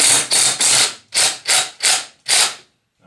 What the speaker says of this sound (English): I'm just using the torque of the impact gun to get it started